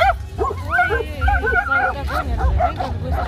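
Several dogs bark and yip in quick, excited bursts on a beach at night in Gagra, Abkhazia, some whining in between, over a low rumbling background and faint human chatter.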